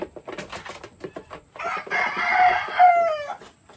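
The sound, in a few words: chickens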